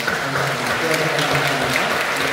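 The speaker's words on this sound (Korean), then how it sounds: "다시 한번 하나님께 감사함과 박수를 드립니다." A church congregation at a Friday night worship service applauds in a brief, steady wash of clapping, with a low hum and murmuring beneath it.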